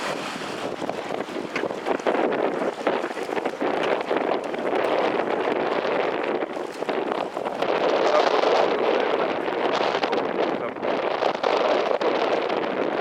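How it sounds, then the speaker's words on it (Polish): A judges' motorboat runs on open water at a sailing regatta in Płock, its engine drone buried in steady, loud wind buffeting across the microphone for the whole stretch. "Płynie tutaj motorówka."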